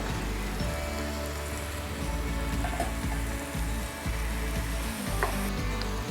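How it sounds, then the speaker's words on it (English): Beef browning with softened onions in a pan makes a dense, loud, rain-like sizzle that runs without a break, with faint crackles and occasional utensil clicks mixed in. "we're going to throw in and brown our beef"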